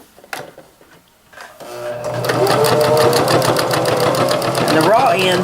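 Sewing machine top stitching a fabric apron waist tie: after a few quiet handling clicks, the motor starts and runs at a steady, fast, close-up whirring hum for several seconds, briefly pitching up near the end.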